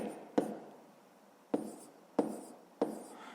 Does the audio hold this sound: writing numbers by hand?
yes